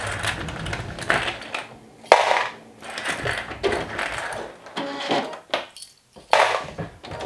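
Sewing machine stitching the front panel of a bodice in short bursts of rapid mechanical whirring and clicking, pausing briefly between runs, with no talking.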